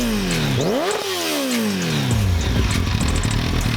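A 2005 Kawasaki Ninja ZX10R with aftermarket cams and a full titanium Sato Racing exhaust revs hard and close, its loud engine note sweeping up, dropping, then climbing again in a continuous roar.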